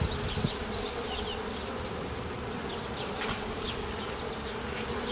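Honey bees buzz in a dense, steady drone at an open hive during inspection, close and continuous throughout.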